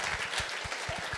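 An audience claps at a Brain Injury Awareness Week event: a brief burst of scattered, moderately loud hand claps with no talk.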